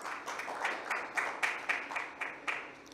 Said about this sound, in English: they actually deserve that applause